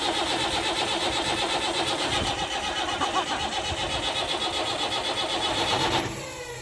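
Narrowboat diesel engine starts and runs, a loud, close, steady mechanical clatter with rapid rhythmic knocking that carries on without a break before fading slightly at the end.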